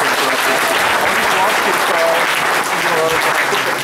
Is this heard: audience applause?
yes